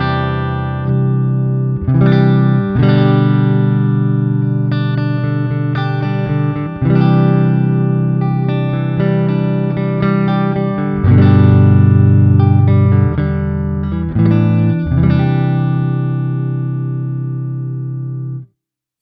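Clean electric guitar through an Amplitube 5 Fender Bassman amp simulation plays chords and single notes with a warm amp tone and gentle sustain, ringing out at the end.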